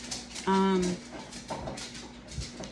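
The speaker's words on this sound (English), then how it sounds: "you probably can hear my puppy deciding to talk now" A puppy gives a short, loud whining vocalization near the microphone, its tonal yelp rising then falling, with a few quieter noises in a room afterward.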